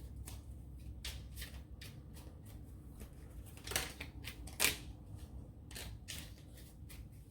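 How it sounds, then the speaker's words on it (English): Tarot cards are shuffled by hand in quick, soft riffling bursts and taps, faint and close, with two sharper slaps near the middle and no voice. "I don't know why I kept shuffling."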